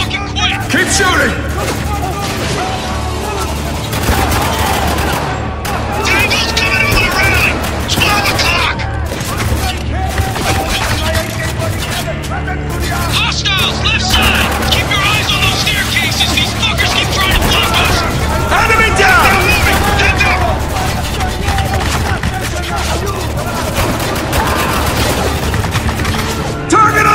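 Sustained gunfire in the shooter Spec Ops: The Line, dense overlapping rifle bursts and booms rattling continuously and loudly throughout, with voices shouting over the battle.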